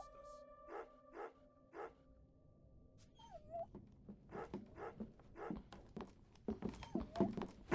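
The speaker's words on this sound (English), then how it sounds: "Filthy dog! What do you want now? Be quiet!" A dog whimpers in the horror game Remothered: Broken Porcelain, with a series of soft, short yelps and whines, faint at first and then growing into quicker, louder cries near the end, with no talking over it.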